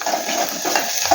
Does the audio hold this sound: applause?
no